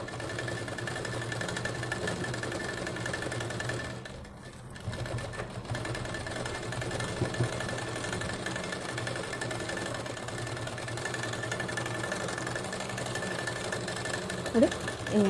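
A sewing machine stitching the sleeve onto a blouse runs in a steady, continuous whir close by, with a brief dip in the noise partway through before the motor hums on without pause.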